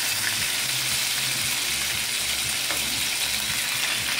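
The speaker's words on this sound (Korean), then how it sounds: "고기를 이렇게 노릇노릇하게 구워주시면 됩니다." Meat sizzling and frying in a pan until golden brown, a steady close crackle with soft scattered pops and no talking, for pork belly bossam.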